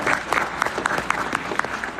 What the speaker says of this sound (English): You give a round of applause.